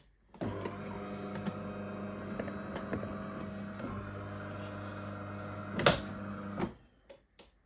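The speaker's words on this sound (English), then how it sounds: "We're gonna stop the machine now." Motorized whirring and grinding from a bean-to-cup automatic coffee machine runs steadily at close range, swells briefly near the end, then cuts off as the machine is stopped, leaving a few faint clicks.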